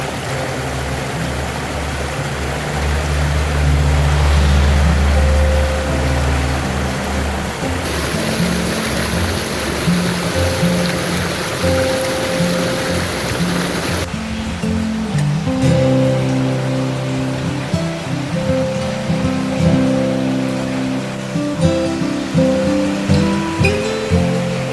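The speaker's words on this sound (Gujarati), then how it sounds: "તમે આ સાઈડ જોઈ શકો છો કેવો અવાજ આવી રહ્યો હશે તમને પાણીનો" Flowing water near the Khodiyar temple at Bharoli makes a steady rushing wash that continues throughout, with music layered over it in the later part.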